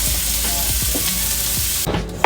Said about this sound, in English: I'm gonna go ahead and flip the shrimp over now